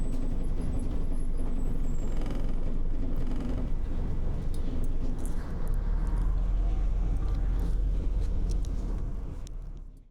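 A bus pulls into the Avalon Marshes Centre near Glastonbury, its engine a steady low rumble under cabin noise, swelling as it slows, with a brief hiss near the end before the sound cuts off.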